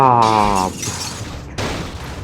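Car crash in GTA Vice City: a loud, sharp shattering impact with a buzzing engine tone underneath, followed by a quieter lull and a second burst of crunching noise.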